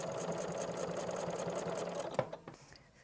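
A sewing machine stitches steadily over a thick denim seam in a fast, even run, then stops abruptly with a few mechanical clunks as it reaches the hump; close and moderately loud.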